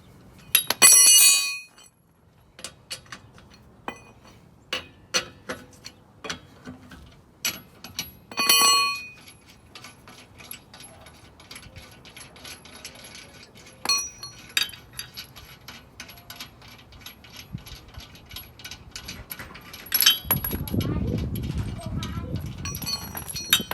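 Lug nuts coming off a car wheel with a lug wrench during a flat-tire change: scattered metallic clicks and clinks at irregular intervals, a few sharp and close, ending in a rougher scraping rumble.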